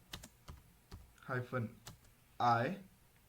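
Quick clicks of a computer keyboard type out a Linux terminal command, scattered keystrokes close by with brief stretches of a voice in between.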